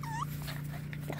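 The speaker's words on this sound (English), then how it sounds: "pictures of our last two puppies. Two wheaten boy puppies" Wheaten puppies give a brief high whimper, a short rising whine near the start, over steady low background hum.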